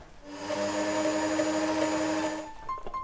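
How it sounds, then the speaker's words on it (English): A blender whirs at a steady high pitch while mixing a white chocolate frappe, running loud and continuous for over two seconds before winding down, with a faint clatter at the end. "And then let's pop this in the blender."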